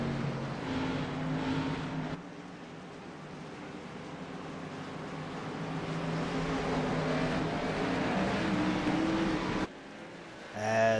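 Stock race cars in a Coke 600 event roar back to speed on a green-flag restart after the pace car pulls off, a dense engine drone swelling and shifting, then briefly cutting out near the end.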